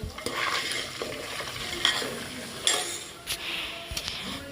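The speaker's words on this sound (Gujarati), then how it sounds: "ધીમો તાપ રાખીને હલાવ્યા કરીશું." Paneer bhurji being stirred in a pan over low heat, a steady scraping of spoon against metal with a few sharper clinks, close and fairly loud with no talking.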